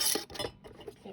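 A metal ring is screwed onto a canning jar lid while jarring pickled beets, heard as a short close series of light metallic clinks and scrapes, alone and quiet.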